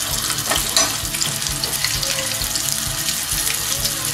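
Garlic and ginger paste fries in a curry pan with a steady, bright sizzle and light stirring clinks, close and continuous.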